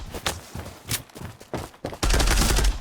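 Pistol fire in the online shooter Zula: a string of sharp, separate shots at an irregular pace, followed by a denser, louder burst of gunfire at the end, with no talking.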